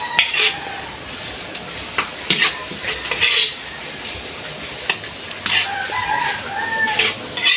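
Tomatoes drop into a hot pan and fry, with a continuous sizzle and intermittent scraping stirs up close, and a rooster crowing in the background.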